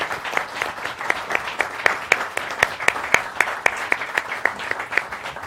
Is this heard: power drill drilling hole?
no